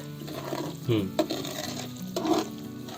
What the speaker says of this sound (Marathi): ते पीठ आणि ते फ्राय होतोय ना तुपामध्ये